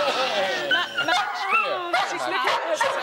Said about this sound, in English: that's your own picture you're barking at for heaven's sake